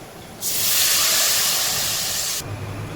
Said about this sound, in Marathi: ते करपायच्या आधीच आपल्याला ह्याच्यात पाणी ओतायचं आहे